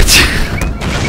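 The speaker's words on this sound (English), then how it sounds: "I love how the explosion is so big. Across the map!" A huge explosion in the video game Suicide Survival, a loud booming blast with a sharp crash at onset followed by a sustained roaring rumble that stays full and heavy to the end.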